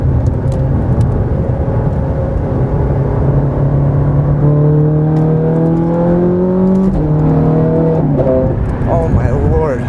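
A Ferrari 430 Scuderia with a Novitec twin-supercharged engine drones loudly inside the cabin on a highway ramp, rising in pitch under acceleration, dropping briefly at a shift, then climbing again.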